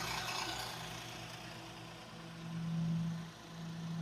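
A Kia K7 Premier car engine idles steadily with a low, even hum that swells slightly midway, free of grinding or knocking, heard alone without voices.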